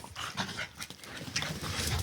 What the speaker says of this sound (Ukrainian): собаки її тупчуть